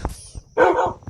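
A video game dog lets out a short, sharp bark after a few faint clicks, loud and close but over in about a second.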